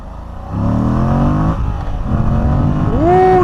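A Moto Guzzi V85TT motorcycle accelerating in sport mode on the road, engine note rising loud and close through gear changes, ending with a sharp rising rev.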